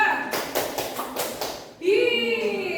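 In a classroom, a teacher demonstrates a rhythmic clapping pattern: a short run of close, crisp hand claps and taps in a steady beat, followed by her voice speaking.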